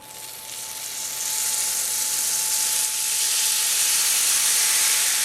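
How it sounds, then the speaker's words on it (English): Cold syrup poured onto hot galaktoboureko, a Greek semolina custard dessert, gives a steady hissing sizzle that swells after a second and holds loud and continuous, with a faint tonal whine underneath. "So now I'm going to add the cold syrup. It's room temperature, and you'll definitely hear it sizzling."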